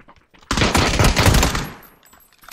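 Rapid automatic gunfire in a shooter video game, one loud sustained burst of close shots that lasts about a second, then trails off into fainter distant pops.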